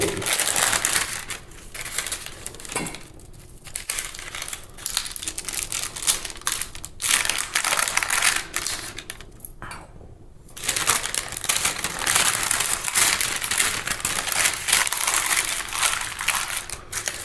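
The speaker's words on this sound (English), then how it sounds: "Put it onto paper, and then we're going to slowly get this into a roll." Compound butter being shaped into a roll on paper, with steady crinkling and crushing of paper throughout, close and fairly loud, with a few short pauses.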